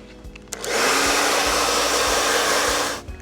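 A hair dryer drying hair while styling waves, switched on after a few faint handling clicks, then a loud, steady whirring blast close by that cuts off at the end, with no speech.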